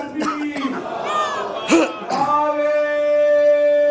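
A crowd answers the call of Naara-e-Takbeer with loud, drawn-out chanted shouts at a religious gathering for Jashn-e-Eid Milad-un-Nabi, in several surging bursts followed by a sustained held tone.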